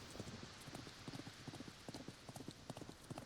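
Horses gallop in the video game Thronefall, heard as rapid, steady clip-clop hoofbeats over a constant background hiss at moderate level.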